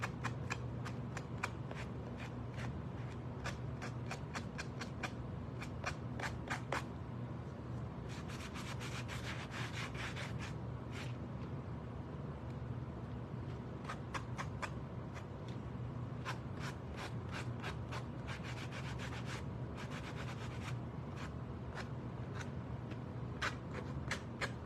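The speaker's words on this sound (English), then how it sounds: "now I'm just going to go around the edges with my sanding block to get rid of that extra paper" Rapid scratchy rubbing strokes of an old sanding block along paper edges come in repeated bursts, a dry abrasive scraping close by, with brief pauses between runs.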